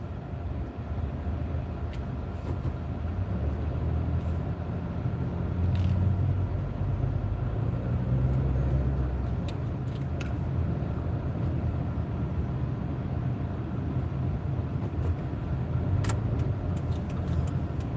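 A car interior rumbles steadily while driving through stop-and-go city traffic on a food delivery ride-along, low engine and road noise continuous with faint clicks and no talk.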